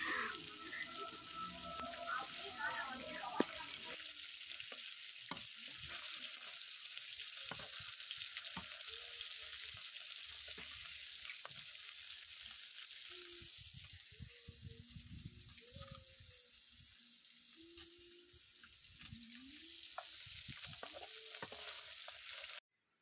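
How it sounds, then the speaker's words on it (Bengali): Fish frying in a pan crackles and sizzles steadily for a long stretch, close and fairly soft, with occasional stirring scrapes and small clinks in a home kitchen. "আমি এখানে মাছ ভাজা বসিয়ে দিয়েছি।"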